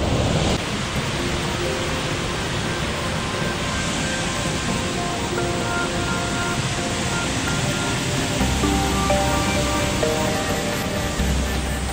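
A river waterfall where a carp is said to have climbed roars with a steady, dense wash of falling water, close and continuous throughout with no talk.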